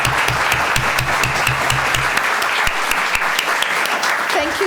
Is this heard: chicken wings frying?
no